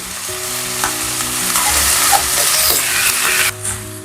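Rice being sautéed in a pan sizzles loudly and steadily, with stirring scrapes and clinks of the spoon against the pan. A sharp knock comes near the end, and nobody speaks.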